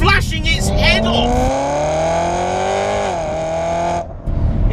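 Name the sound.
supercharged BMW E92 M3 engine revving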